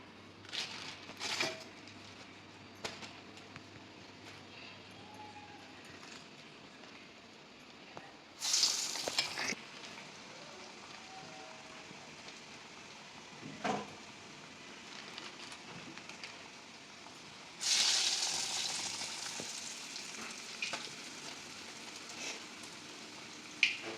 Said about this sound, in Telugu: నూనె వేడైంది ఇప్పుడు గారెలను తీసి వేసుకుందాం